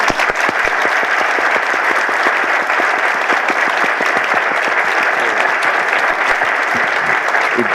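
An audience applauds after a lecture, a dense, sustained clapping that stays even and loud for several seconds, with no voices over it.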